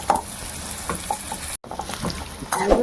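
Bitter gourd fries in oil in a pan, giving a soft, steady sizzle broken by light stirring clatters and a brief cut-out midway.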